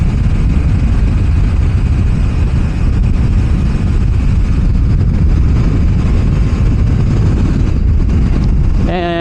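A Suzuki GSXR motorcycle cruising in sixth gear at nearly 100 km/h, heard as a loud, steady engine drone buried in heavy rushing wind noise throughout, with a brief chirp at the very end.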